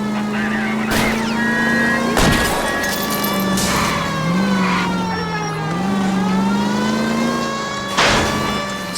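A 1940s car roars through a chase in L.A. Noire, its engine revving loudly and shifting pitch as it accelerates, punctuated by a few sharp impacts and crashes along the way.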